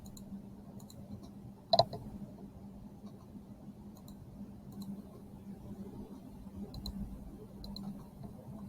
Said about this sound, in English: I'm going to click on the outside edges, and I'm going to make 4 lines